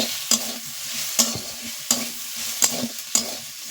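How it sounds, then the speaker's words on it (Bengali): Drumstick greens and potatoes sizzle in a pan while a utensil scrapes and stirs in regular strokes, each stroke a sharp scrape over the steady frying hiss. "এবার শাক আলু একসাথে মিক্সড করে নিচ্ছি"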